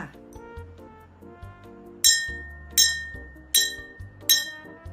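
A glass bottle filled with water is struck four times at an even pace, each clear ringing clink decaying quickly, with soft music playing quietly underneath.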